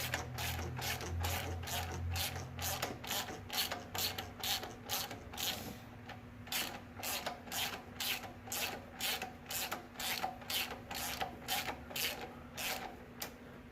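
A ratchet wrench on an extension tightens the alternator of a 2000 Toyota Camry, clicking in a steady, close, even rhythm of repeated strokes over a low engine-bay hum.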